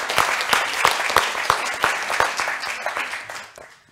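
Scattered audience clapping at an industry event, individual claps distinct and fairly close, fading out over a few seconds.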